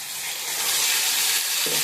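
Spice masala frying in hot oil in a pan, a dense hissing sizzle that swells slightly and stays steady and close, without speech.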